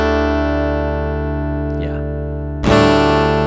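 A guitar in DADGAD tuning, open strings ringing and sustaining, then struck again with a sharp attack near the end, loud and close with no talk.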